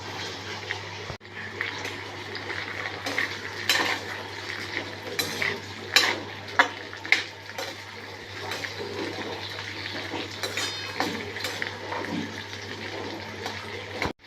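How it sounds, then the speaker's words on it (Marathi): French beans frying in a little oil in a pan, with a low sizzle under intermittent clinks and scrapes of a utensil against the pan, fairly quiet with a constant low hum beneath. "फरसबी छान दोन तीन मिनटं तेलावर परतून घेतलेली फ्राय करून घेतली"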